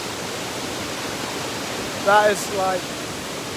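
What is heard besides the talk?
waterfall rushing nearby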